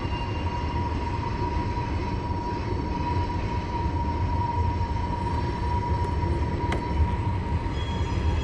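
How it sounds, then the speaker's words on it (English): Steady loud rumble and clatter of a train rolling past nearby, with a faint sustained tonal whine and a sharp metallic click near the end. "is that a fucking train?"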